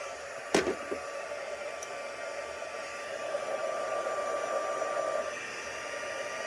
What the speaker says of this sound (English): We'll heat up our embossing gun for just a second here.